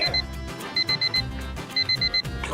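An alarm clock rings in rapid bursts of high electronic beeping, with three clusters over a few seconds, loud and layered over a busy background of music and room noise.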